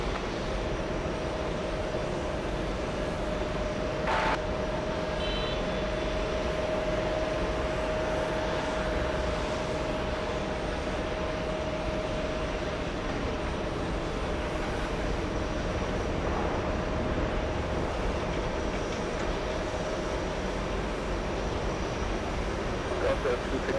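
A Boeing 787 jet sits on the runway awaiting takeoff, its engines a steady broadband roar from a distance with a faint tone overhead, continuous throughout, alongside an airport radio voice.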